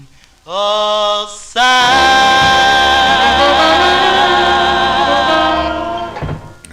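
Doo-wop group harmony from a 1950s 45 record, with a lead voice and blended backing vocals over a band, full and loud after a short sung opening.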